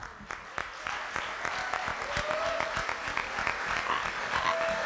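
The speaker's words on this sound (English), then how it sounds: "Give yourselves a round of applause" An audience at a community conversation event applauds itself, a dense wash of clapping from many hands throughout, moderately loud and fairly close, with a few voices mixed in.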